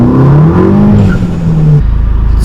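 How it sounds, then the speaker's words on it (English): A 2015 Volkswagen Golf GTI with a 2.0 turbo engine drives along, its loud, close interior engine drone rising and falling in pitch through gear changes, with no talk. "today I am driving a 2015 Volkswagen Golf GTi."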